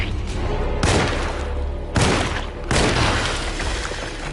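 Three loud, booming gunshots from the survival horror game Alone in the Dark, spaced about a second apart, each followed by a rumbling tail, with no talking.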